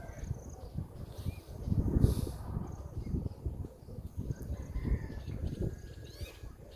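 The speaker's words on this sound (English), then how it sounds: "the sound of those birds singing" Birds sing in a garden in The Gambia at sunset during the rainy season, a faint, steady chorus of scattered chirps over low background rumble, with no talking.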